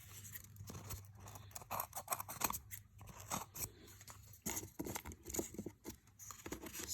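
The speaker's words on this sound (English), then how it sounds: "we can take our scissors and cut the excess from the top that we don't want to have be there" Scissors snip through excess construction paper at the top of a toilet paper roll during a superhero craft, giving a string of close, irregular crisp cuts and rustling crunches.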